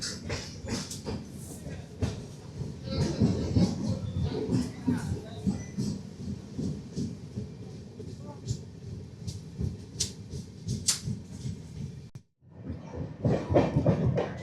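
The Padatik Express runs on its rails after leaving Bardhaman at night, giving a steady rumble and rattle with clickety-clack beats and brief louder bursts. A voice speaks over it in places.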